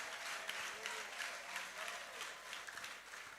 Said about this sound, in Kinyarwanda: urakoze amashyi kwa Yesu bashoje